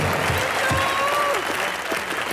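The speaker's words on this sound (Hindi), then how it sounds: "जोरदार तालियां एक बार।" A studio audience applauds on an Indian television comedy show, loud, continuous clapping with a few faint tones and voices mixed in.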